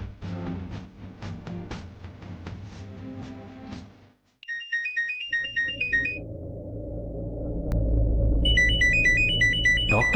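A phone rings with an incoming call in a Tamil TV drama scene, a melodic ringtone chiming in repeated bursts over a low rumbling music bed.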